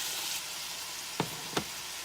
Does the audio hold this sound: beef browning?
yes